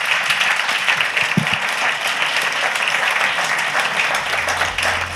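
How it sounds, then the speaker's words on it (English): Enthusiastic audience applause at a live blockchain-themed podcast event honours the speakers, a loud sustained crowd of clapping hands with a brief low thump partway through. "One more huge round of applause for these great speakers."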